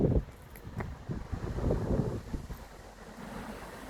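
Cold wind gusts across a garden asparagus bed on a windy morning, giving a low, rumbling buffet against the microphone that continues throughout with no voices.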